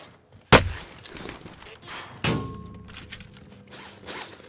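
Gunfire in the video game Call of Duty Modern Warfare lands as a couple of sharp, loud cracks spaced apart, each trailing into rumbling echo, with quieter thuds and faint background noise between them.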